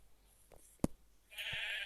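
A brief, faint sheep bleat from a video game sounds amid a sharp click and a burst of hiss as the sheep is attacked, all quiet and close together.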